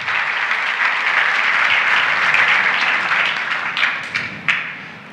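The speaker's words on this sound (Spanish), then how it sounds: "Denle un aplauso al Señor en esta mañana." A congregation applauds at a morning church service, a loud sustained roll of many hands clapping that tapers off near the end with a few last separate claps.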